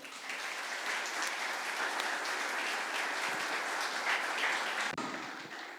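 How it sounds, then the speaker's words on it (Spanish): Sustained audience applause greeting a guest speaker at an industrial refrigeration lecture, dense steady clapping from a hall crowd that continues for several seconds before tapering slightly. "Lo recibimos con un fuerte aplauso."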